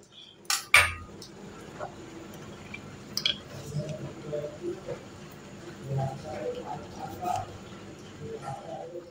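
A spoon scrapes and clinks against a bowl while salt is mixed into dry semolina, giving soft gritty rustles and a few sharper metallic taps early on, close and fairly quiet with no talking.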